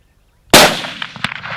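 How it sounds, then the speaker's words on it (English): A single sharp rifle shot cracks out at a game animal on a South African hunt, loud and close, followed by a fading echo and a brief knock. "shoot him behind the shoulder, center mass"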